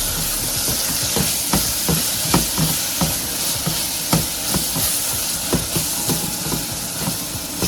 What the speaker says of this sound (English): let the seasoning cook a little bit before I add in the saltfish